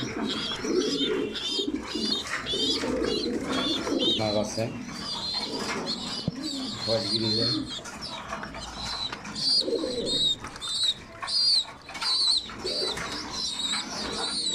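Domestic pigeons kept during molting season coo steadily in soft, throaty repeated phrases close by, with someone speaking in Bengali over them.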